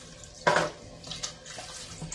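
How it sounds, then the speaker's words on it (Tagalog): Tap water runs into a pot while rice is rinsed, with a sharp splash near the start followed by steadier, softer trickling and light stirring, close and without voices. "Hugasan mo na yung bigas."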